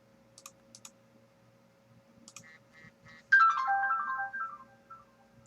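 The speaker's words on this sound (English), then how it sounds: "That's my alert that I have voicemail." Phone voicemail alert tone: a short melodic electronic chime rings out loudly after a few soft clicks and faint beeps, sustaining briefly before fading.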